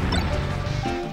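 Heavy forward smash hit in a Super Smash Bros match, a loud crashing impact with a burst of noise and a decaying rumble, brief and dense.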